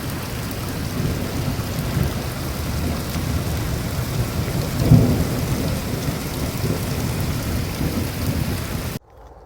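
Steady rain pours down in a village with a low rumble of thunder swelling midway, continuous and close, then the sound cuts off abruptly near the end.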